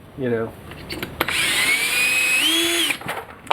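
A power drill whirs up for about two seconds, spinning a Lee brass case trimmer on Lake City 5.56 brass, its whine wavering and rising in pitch before cutting off, with a brief voice just before.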